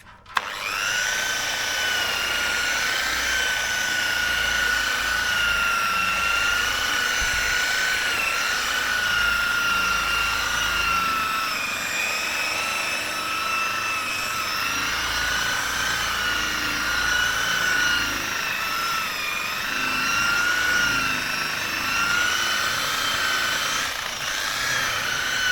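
A power sander runs continuously against a boat hull, rubbing off the old finish with a steady high whine and grinding texture that holds near and loud for the whole stretch, with no voices.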